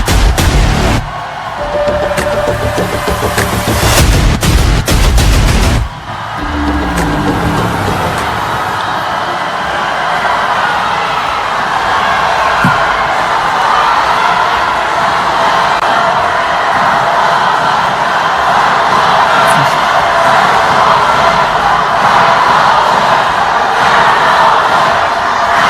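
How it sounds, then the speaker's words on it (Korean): Party convention rally crowd in a large hall greets a candidate with loud cheering, shouts and applause, opening with booming music and bangs before settling into sustained crowd roar and clapping. "박수로 맞이해 주시기 바라겠습니다"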